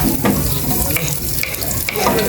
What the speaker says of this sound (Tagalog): Gisa na po ni Aya itong bawang sibuyas.